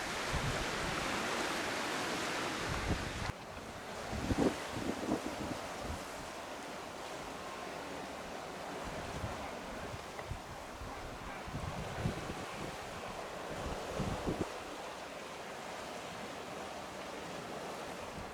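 Strong coastal wind buffets the microphone in a continuous roar at a picnic area beside the water in the Scottish Highlands, with gusty low rumbles and a distant wash like surf underneath.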